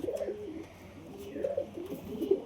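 Pigeon cooing, soft low throaty coos close by and fairly quiet, repeating in short phrases over faint background noise.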